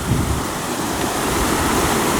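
Floodwater pours over a waterfall in Portland, Oregon, a loud and constant rushing roar with wind buffeting the microphone.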